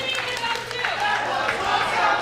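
A wrestling crowd at the Orpheum reacts during a women's wrestling show, a rolling murmur of voices, shouts and scattered claps filling the hall at moderate loudness.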